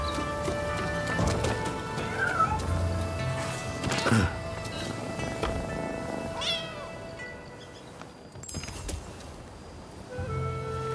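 A cat meowing in the samurai action game Rise of the Ronin, with a couple of short meows over busy game ambience that includes horse hooves and a whinny.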